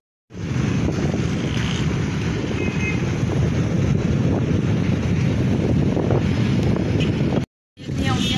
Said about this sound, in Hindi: कितनी अच्छी हवा चल रही है